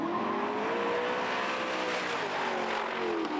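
Drag racing cars at Texas Motor Speedway's Friday Night Drags roar at full throttle, a loud, sustained engine howl with rising and falling pitch, heard alone without voices.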